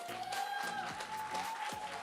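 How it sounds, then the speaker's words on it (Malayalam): Applause at a church stage ceremony honouring former secretaries during the 20th foundation anniversary of St Stephen's Knanaya Church in Bristol, UK: a steady, moderate wash of clapping from an indoor crowd, with a sustained tonal hum running underneath. "ഒരു നല്ല കയ്യടി"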